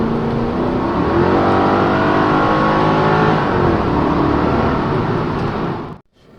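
A Mercedes C55 AMG rated at 367 horsepower accelerates hard from a standstill, its engine roaring loudly and steadily as the revs climb, before the sound cuts off abruptly near the end.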